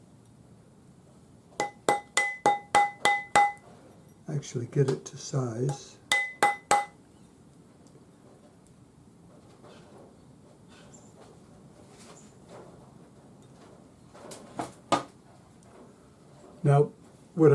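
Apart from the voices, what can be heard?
rawhide hammer tapping wire ring on ring mandrel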